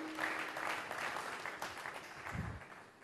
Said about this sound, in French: acclamez quand même pour moi